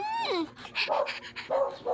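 A dog whimpers and pants in short, high whines and breathy puffs, close by and fairly quiet.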